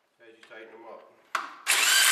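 A power tool tightens wheel bolts on an Allis Chalmers tractor during a wheel eccentric repair. A brief rising whine ends in a loud, steady burst of whirring up close, following a moment of indistinct voice.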